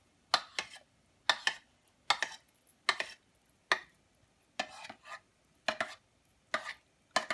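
A knife chops food for a Korean soup on a board in steady, crisp strokes, roughly a dozen close, clean knocks falling in loose pairs and bursts over quiet background, with no talking.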